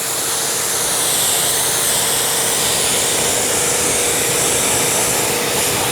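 A pressure sprayer blasts a steady, loud hiss of water across a car during a quick rinse, a continuous close rushing spray with no pauses and no voices.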